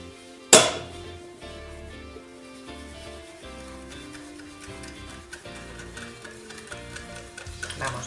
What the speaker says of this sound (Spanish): Vamos mezclando, que quede todo bien incorporadito.